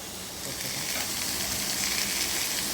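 Small onions and dried red chillies fry in hot oil, giving a steady, close, moderately loud sizzle that holds evenly with no pauses and no talking.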